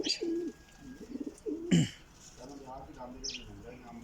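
Pigeons in a loft coo in a series of low, rolling calls, fairly close, with faint voices in the background.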